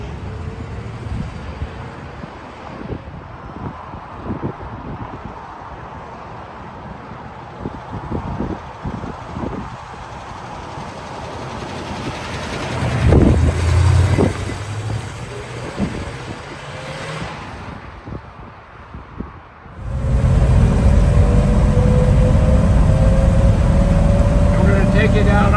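A 1955 GMC pickup truck drives along, its engine a steady low rumble with wind noise, growing louder near the end as it picks up speed, while someone talks over it.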